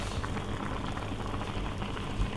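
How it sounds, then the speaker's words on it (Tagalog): A pot of fish stew (tuna with kamias) bubbling at a steady boil, dense continuous simmering and popping at close range, with no voices. "Kumukulo na ang ating Si Naeng natulingan"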